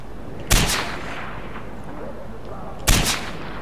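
Two loud, sharp gunshots from the Far Cry 4 video game, one near the start and another about two seconds later, each with a short ringing tail over a steady low background rumble.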